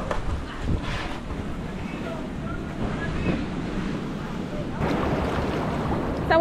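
Ocean waves breaking on the shore of a Venezuelan beach at Choroni, a rolling surf wash with gusts of wind buffeting the microphone and people speaking Spanish nearby.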